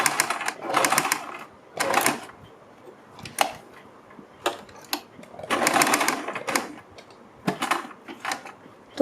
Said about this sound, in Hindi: तो इसी तरह से हमें नीचे तक इन प्लेटों पर ही सिलाई लगानी है